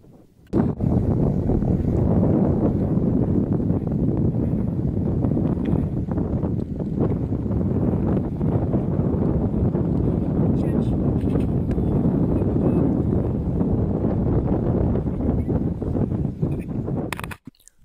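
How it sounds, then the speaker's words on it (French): Strong, steady wind roars across the microphone high on Aconcagua, a dense continuous rush that stays loud and unbroken before cutting off at the end. "Il fait toujours autant de vent."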